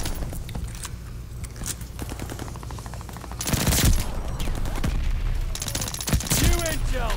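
Incoming mortar fire in the Call of Duty Vanguard video game, with rapid machine-gun bursts giving way to heavy booming impacts that land in loud clusters, while voices call out over the battle.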